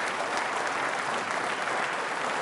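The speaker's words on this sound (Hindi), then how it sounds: "तालियां अपने लिए बजाइए जोरदार तरीके से" Loud, dense applause from a seated audience at a quiz show for trainee state services officers, a steady unbroken roar of clapping throughout without voices on top.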